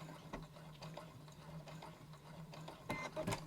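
A sewing machine sews a lock stitch on fabric for festive drawstring gift bags, giving a quick, rhythmic mechanical clatter that builds near the end, close and steady.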